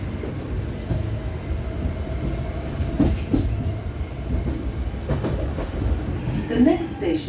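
A London Underground tube train runs with a continuous low rumble, rhythmic wheel clatter and a few sharper rail knocks, while a voice talks faintly in the background.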